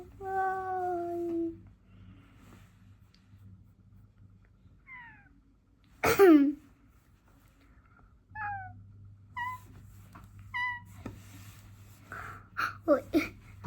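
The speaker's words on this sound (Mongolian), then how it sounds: "Жинхэнэ муур штэ." A cat meows several times, short clear calls spread across a quiet room with a low steady hum, plus a sneeze-like burst midway and soft voices in the background.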